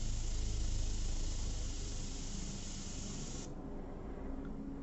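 Airbrush spraying paint during portrait work, a steady close hiss of air and paint that runs continuously and cuts off its high edge about three seconds in, leaving a softer hiss.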